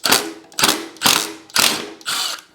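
A ratchet wrench clicks in five loud, close bursts of rapid pawl ratcheting while heat shields and brackets come off a 2002 Harley Springer Softail, with short pauses between strokes and no talking.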